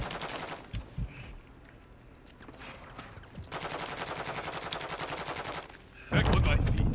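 Rapid bursts of video game gunfire, automatic weapons rattling in several loud volleys with gaps between, ending in a heavy close burst.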